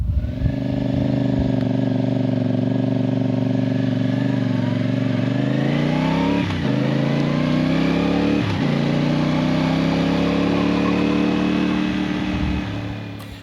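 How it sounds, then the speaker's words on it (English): A CFMoto CL-C 450 Bobber parallel-twin motorcycle engine rumbles loudly up close, revving up and down in smooth swells with a couple of quick blips, no talking. "it's the engine that is the standout part of this bike"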